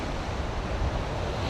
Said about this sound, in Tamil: சில அலைகள் வருது